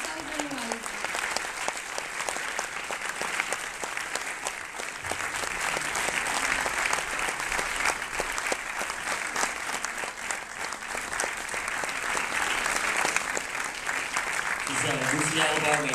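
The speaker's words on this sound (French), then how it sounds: "Je vous demande d'applaudir très fort Ben Zetlin et toute son équipe." Sustained audience applause at the Cannes Film Festival 2012 youth award ceremony, dense continuous clapping filling the hall, with a voice briefly audible near the end.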